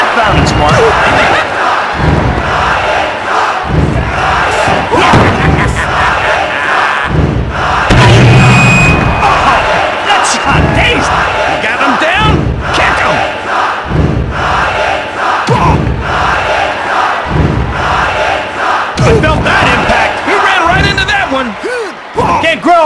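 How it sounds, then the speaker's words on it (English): In the WWF Attitude Dreamcast wrestling game, a loud arena crowd roars and cheers continuously while commentators talk over it and heavy rhythmic thuds of ring action land throughout. "Check out this crowd. They're on their feet."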